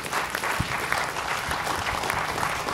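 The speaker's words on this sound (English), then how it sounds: "Round of applause for our panel today" Conference audience applauding a panel at the end of a session, a steady sustained round of clapping with some closer, sharper hand claps standing out, no talking over it.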